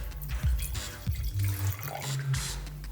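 2019 St Francis Zinfandel red wine poured from the bottle into a glass, a gurgling liquid stream with glugs and small splashes, close and moderately loud.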